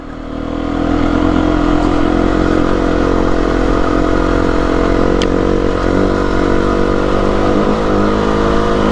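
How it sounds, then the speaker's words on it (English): Beta 390RR dirt bike lugging up a climb on a Kent green lane, its engine droning loud and steady throughout with a constant low rumble and clattery mechanical whir, close to the rider. "This bike is just so good. It just lugs up everything."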